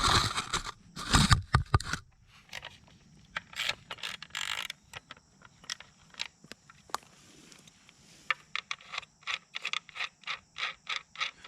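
Ratchet clicking as bolts are loosened from the alternator of a 2002 BMW 530i, close and fairly quiet, in a rapid burst of clicks followed by short runs of separate clicks.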